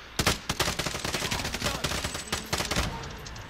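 Rapid gunfire in the battle royale shooter Warzone, with an M4 rifle in play: dense bursts of close shots crackling one after another across the whole stretch, with no voices over them.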